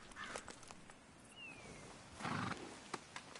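Horse in the Red Dead Redemption II video game, snorting and whinnying with a brief mid-clip whinny and a louder burst near two and a half seconds, set against faint ambient outdoor noise.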